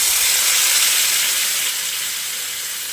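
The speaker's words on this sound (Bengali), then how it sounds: "এবার আমি এর মধ্যে দিয়ে দিচ্ছি উষ্ণ গরম জল।" Warm water poured into a pan of cooking gathi kochu (taro) sets off a loud, broad sizzle and hiss that holds steady, then eases slightly as the pan settles.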